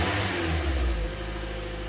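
A stock 2011 Toyota Corolla engine revs up and then drops back toward idle in a single short, loud rise and fall, heard alone and close by.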